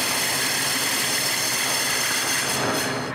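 A wood lathe running at raised speed while a hole is drilled into the turned piece, a loud, steady motor whine and whir that holds unchanged for three seconds and eases slightly at the end.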